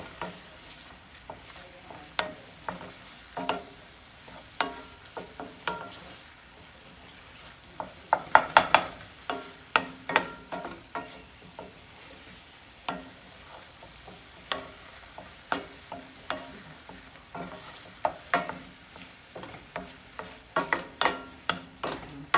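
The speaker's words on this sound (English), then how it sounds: "we have to do like a stir fry to keep the apples and also the sugar from burning." Apples and sugar stir-fried in a cast iron skillet, with a steady sizzle broken by repeated scraping strokes of a utensil against the pan and louder clattering bursts partway through. No one speaks.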